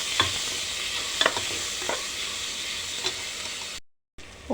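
Tomato is stirred into frying masala paste for a cluster beans curry, a soft steady sizzle with a few scraping stirs, close by, ending in a brief cut to silence and a short resumption.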